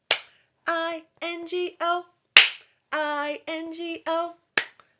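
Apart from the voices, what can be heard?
children clapping in place of a letter in the Bingo song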